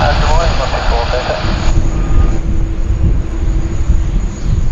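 Cathay Pacific Boeing 747-8 arriving from Hong Kong and landing on runway 16 right at Sydney Airport, a loud continuous jet roar with a broad rumble that stays steady, with some voices in the background.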